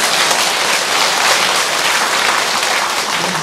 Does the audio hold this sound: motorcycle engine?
no